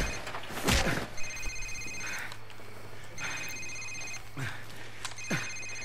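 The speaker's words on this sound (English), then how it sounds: "Sir, it's his cell phone." A cell phone ringing during a Call of Duty 4 mission, repeated electronic ring bursts in a regular pattern, mixed with a few thuds and light game ambience.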